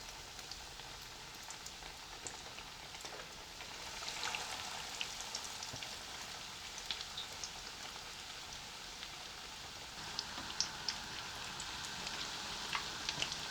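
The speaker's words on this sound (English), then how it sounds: "Placing our rolls into the oil." Sausage rolls frying in hot oil, a steady dense sizzle with crackling pops that grows a little busier partway through, close and continuous with no voices.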